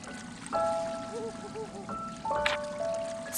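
Water trickling and pouring from a glowing orb in the Atelier Ryza video game, a soft dribbling stream under a quiet layer of chiming musical tones.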